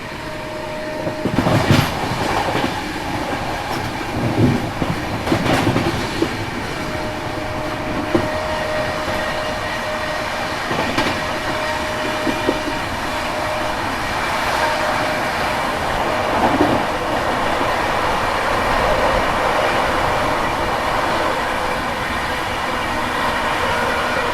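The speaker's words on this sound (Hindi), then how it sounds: "और अभी ट्रेन अच्छी खासी रफ्तार में चल रही है" The Ahmedabad-Gorakhpur Express running at a good clip, heard from inside a carriage as a loud continuous rumble with wheel clatter over rail joints and occasional faint squeals.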